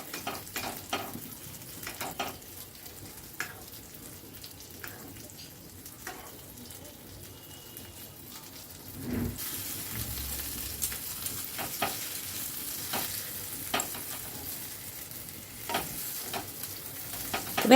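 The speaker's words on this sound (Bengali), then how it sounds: "এবার আমি একটা হাতা আর একটা খুন্তির সাহায্যে উলটপালট করে দিচ্ছি, যাতে ওপর পোর্শনটা ভাজা হয়ে যায়।" Flour-and-pea snacks frying in oil while being turned over with a ladle and a spatula. A steady sizzle runs throughout, with intermittent scraping knocks, and it grows louder and denser partway through.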